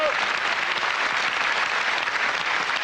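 A studio audience applauds after a song performance on a French radio-television panel show, a dense, steady wash of clapping that holds evenly throughout without talk.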